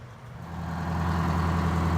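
A Detroit Diesel 8V92TA engine in a rebuilt Wanderlodge bus runs steadily just after start-up, a close, loud, deep rumble with a strong low hum that builds slightly and then holds even.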